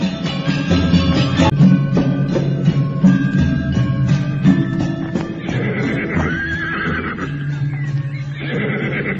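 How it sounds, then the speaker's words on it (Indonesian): A group of ridden horses draws near, with neighing and whinnying over faint clip-clop of hooves and a steady, dense backdrop of sound throughout, no talking. "Seorang pencari rumput terkejut ketika rombongan berkuda itu mendekatinya."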